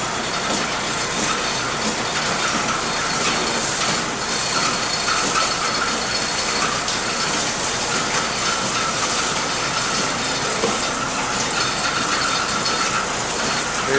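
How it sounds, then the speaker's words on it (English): A concrete pump forces GFRC glass-fibre-reinforced concrete mix through a hose, giving a loud, steady mechanical clatter and grinding that runs unbroken throughout with no talk. "It's already starting to push it through the hose."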